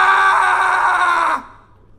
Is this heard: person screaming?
yes